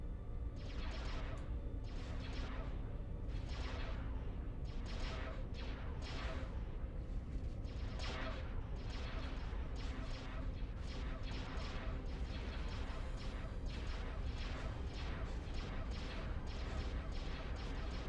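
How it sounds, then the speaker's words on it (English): In Stellaris space combat, torpedoes and weapons fire in a steady series of rapid whooshing bursts, repeated roughly every half second over a constant low rumble, fairly faint overall. "I love those torpedoes. They really take a wide arc."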